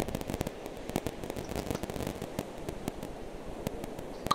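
Cram cannons fire in the video game From the Depths, a dense run of sharp cracking bangs and crackles, some closely bunched and others spaced out, over a continuous rumbling background with no talk.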